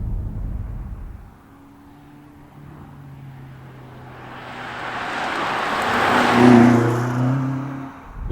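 A BMW M5 Competition drives past, its engine note dipping low and then swelling into a loud whooshing rush as it nears, with rising tonal drone and broadband road noise before fading slightly.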